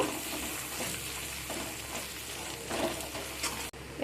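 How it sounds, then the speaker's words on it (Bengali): Chili paste being stirred into a chicken mixture frying in a pan, producing a steady, close sizzle with soft scraping of the spoon throughout. "এর মধ্যে দিয়ে দিলাম দিয়ে সব কিছুকে মিক্স করে নেব"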